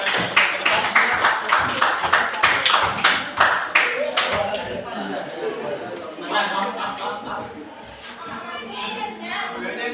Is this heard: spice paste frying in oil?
no